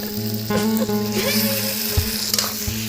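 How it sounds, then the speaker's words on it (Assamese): Goat meat fries in a pan with a steady, close sizzle and some crackling, while a low hum and occasional clicks and taps of cookware come through for a few seconds. "এয়া আমাৰ ছাগলী মাংস ফ্ৰাই চলি আছে"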